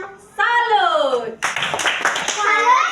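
Classroom of children in Indonesia clapping together in a patterned rhythm, loud and close, with a teacher and kids calling out around the claps.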